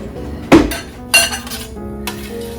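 Roasted vegetables are flipped over on a pan, giving two sharp, close metallic clinks a little over half a second apart, followed by faint scraping and quiet.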